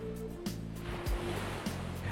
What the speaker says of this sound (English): Let the rhythm of the waves do the talking.